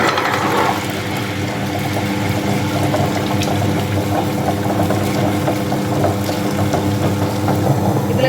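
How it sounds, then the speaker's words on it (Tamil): A wet grinder grinding rice and urad dal with water churns steadily and loudly, its motor hum mixed with a rhythmic sloshing, grinding rattle that continues without pause. "இப்போ அரிசி சேர்த்து கிரைண்டரில் அரைக்கலாம்."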